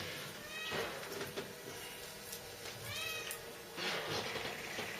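Female cat in heat meowing, several drawn-out wavering calls heard close over a noisy background.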